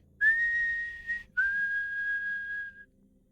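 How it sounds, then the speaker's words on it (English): A person whistles a short tune in two long, clear, steady notes separated by a brief pause. The whistling is close and heard alone. "I whistle back the same tune."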